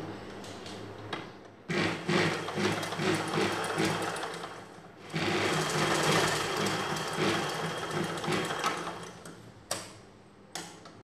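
Sewing machine stitching the two ends of blouse fabric together runs in bursts of rapid rhythmic clatter, pausing briefly between runs and ending with a couple of sharp clicks, close and fairly loud.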